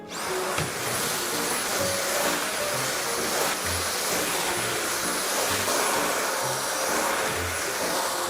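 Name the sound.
vacuum cleaner cleaning the floor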